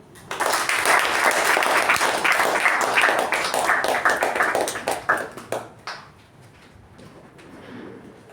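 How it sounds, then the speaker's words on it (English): Audience at a Toastmasters meeting breaks into a dense round of applause that holds steady for about five seconds, then thins into a few scattered claps and fades to near quiet. "With a huge round of applause, ladies and gentlemen, please give it up for our President, Toastmaster Ujwal."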